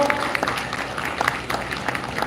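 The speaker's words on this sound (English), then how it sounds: "Please applaud." Audience clapping at the inauguration ceremony of a university law fest, steady applause filling the whole moment at moderate loudness, with scattered sharper claps standing out from the crowd.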